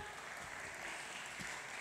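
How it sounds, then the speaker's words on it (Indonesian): A teen church service crowd claps faintly in the distance, a soft, steady patter of applause with no clear rhythm. "Saya tepuk tangan dong"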